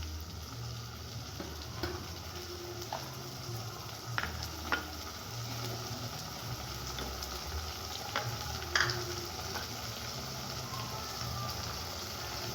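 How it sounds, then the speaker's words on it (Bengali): Masala with green chillies frying and being worked in a pan, a steady low sizzle with scattered scraping and clinking stirs, mid-distance and fairly even throughout. "তিন 4 মিনিট এটাকে কষিয়ে নেব মশলাটাকে।"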